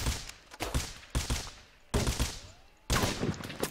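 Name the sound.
gunfire in the video game Rust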